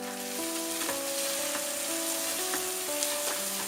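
Chopped onion, carrot and capsicum fry in oil for veg fried rice, a steady dense sizzle throughout, close and even, over a faint background hum.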